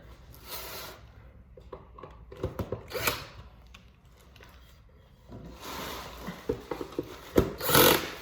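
Cordless power drill driving screws into an IKEA nightstand, short intermittent whirring bursts up close with pauses between them, the last bursts louder and longer.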